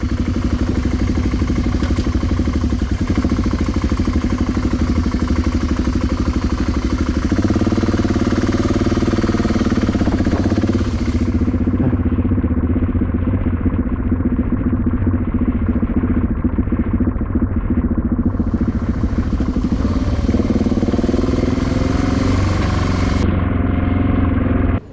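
An off-road motorcycle engine, a BMW 650GS or Tuareg 660, runs steadily at idle after a storm, giving a close, continuous low rumble with slight clatter and no speech.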